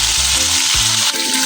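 Tulingan, mackerel tuna, frying in a pan, a loud close-up sizzle with a constant crackling hiss and a brief dip near the end, with no voices.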